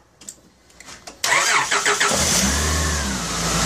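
A car engine starts after a boost from a portable jump starter pack: a few faint clicks, then the starter cranks briefly and the engine catches with a loud burst. It settles into a steady, close idle.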